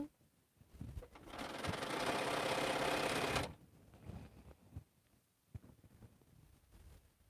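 A sewing machine stitches quilt binding in one steady, fairly loud burst of about three seconds, set between quiet stretches with faint handling sounds.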